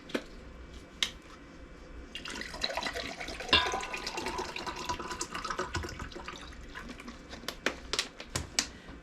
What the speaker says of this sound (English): So I'm adding 6 cups of water.